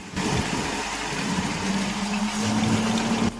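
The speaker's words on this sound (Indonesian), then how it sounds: "Mesin perontok padinya ready juragan." A rice threshing machine's engine runs steadily at close range, giving a continuous broadband mechanical drone with a low steady hum underneath and no voices.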